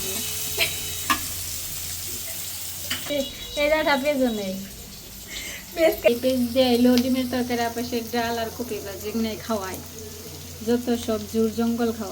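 Eggs are added to a curry in a pan, frying and sizzling up close as a spoon stirs, with bursts of sputtering and a voice speaking over the cooking.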